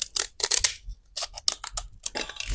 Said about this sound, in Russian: и вырезаю вот так вот ножницами